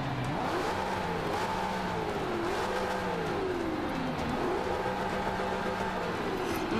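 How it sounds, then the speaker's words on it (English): A 2015 Ford Mustang V8 Supercar engine in a Forza 5 race revs continuously, its pitch sweeping up and down through gear changes, loud and steady with no talking. "Listen to that engine."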